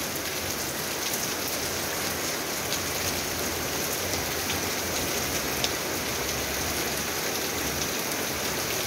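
Heavy rain falls outside the front of a house, forming a constant broadband wash of drops hitting the ground and roof, unbroken and without talk.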